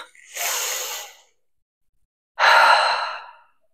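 Two long, breathy exhales during a prenatal upper-body Pilates exercise, each a steady, close hiss lasting about a second, separated by a quiet pause.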